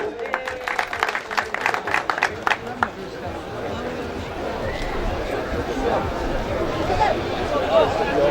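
Crowd applause at a 2014 wrestling event, with loud, choppy bursts of clapping at first that give way to a looser murmur of crowd noise and chatter.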